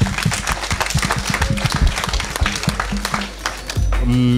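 A studio audience breaks into applause at a televised discussion, a busy patter of many hands that runs for several seconds before a voice cuts in at the end.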